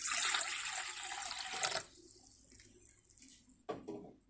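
Tap water running into a container for bread dough, a steady hissing stream that cuts off, then a quieter trickle and a brief splash near the end.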